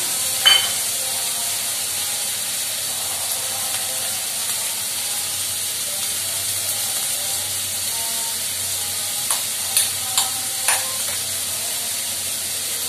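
Onion, capsicum and bean pieces fry in a pan for aavakaya fried rice, giving a steady soft sizzle and hiss with a few faint stirring clicks and scrapes near the start and end.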